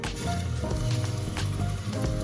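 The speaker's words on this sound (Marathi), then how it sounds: "आता आपण हे मसाले तेलात छान फ्राय करून घेऊया।" Garlic, ginger and spices frying in hot oil in a pot over medium heat for a spicy Maharashtrian mutton curry; a steady close sizzle and crackle with small bubbling pops throughout, no one talking.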